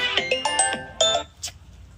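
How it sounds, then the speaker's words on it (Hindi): Phone ringtone chiming a short melodic tune of several bright tones, fairly close and clear with no talking over it. "फ़ोन आ गया।"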